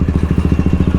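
A KTM RC 200 motorcycle engine runs close and loud, a steady throbbing burble of rapid, even pulses.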